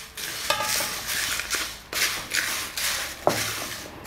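Roasted sambar spices with turmeric powder scraped and stirred in a pan with the flame off, producing steady gritty rustling broken by a few clinks and scrapes, close and fairly loud.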